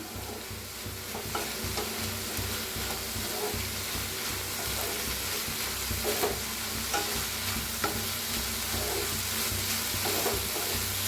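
A chaat mixture roasts in ghee in a pan, giving a steady loud sizzle and frying crackle with scraping stirring strokes throughout. The sound stays close and continuous, with no talking.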